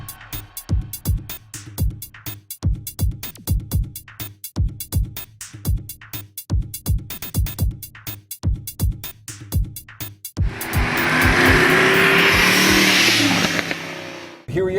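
A 2011 Mercedes-Benz SLS AMG on a night drive, heard as repeated rhythmic engine pulses and thumps at close range, then a loud sustained roaring rush near the end.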